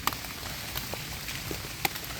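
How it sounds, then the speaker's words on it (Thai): Rain falls steadily in a forest during mushroom foraging, a dense close patter with a few sharper drops striking nearby, with no talking. "ฝนตกอีกแล้วครับ พี่น้อง"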